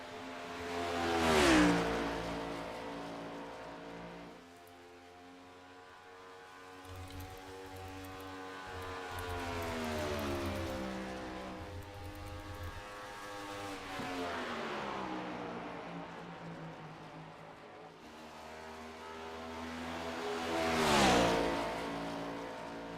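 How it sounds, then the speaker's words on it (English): A Mustang race car laps a track during an A2 Cup Series all-star event, its engine revving up and down through gears, swelling loud as it passes near and fading between, with no talk. "Next car on track is Tommy Withers in the number 6."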